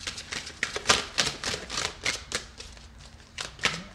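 Oracle cards riffle and slap in quick irregular bursts, a crisp flurry of shuffling up close with no voices.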